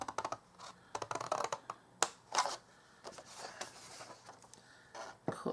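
Scissors or a blade cutting cardboard along a score line for a small dispensing tissue box, a series of quiet, close, irregular snips and scratchy scrapes with brief pauses between them.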